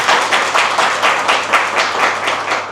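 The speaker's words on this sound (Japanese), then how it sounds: "関本さんに拍手をお願いします" A small audience claps for architect Ryuta Sekimoto, a commentator at an architecture talk: loud, steady applause with a regular rhythm over about three seconds and no speech.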